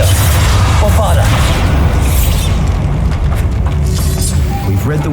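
Magic spells and explosions boom in a Hogwarts Legacy duel, a loud, dense rumble of blasts and bursts with a voice shouting over the chaos.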